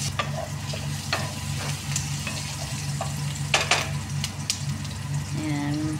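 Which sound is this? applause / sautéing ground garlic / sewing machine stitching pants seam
sautéing ground garlic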